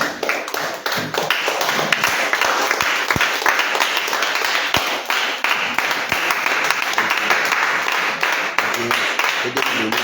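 A church congregation, standing to acclaim the Lord, claps in a dense, steady rhythm of applause that fills the room, with some voices mixed in.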